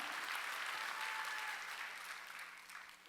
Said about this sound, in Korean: 박수 나를 돕는 거야 이게.